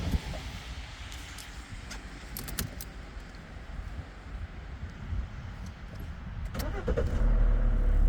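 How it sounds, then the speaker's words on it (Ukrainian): A Mercedes W211 engine starting: jingling keys and faint clicks at first, then a rising low rumble as the engine catches and settles near the end, close by with no talk. "А тут ще цікаво як вона заводиться."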